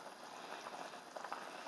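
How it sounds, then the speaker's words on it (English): A pot of Jamaican stewed peas with smoked pig's tail and beans simmers, giving a faint, steady bubbling hiss with soft occasional pops. "Now that the pig's tail and the beans are bubbling"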